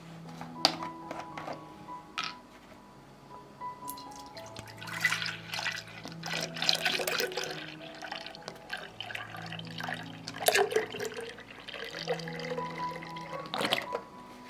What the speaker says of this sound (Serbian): U bokal ću sipati pola litre mleka.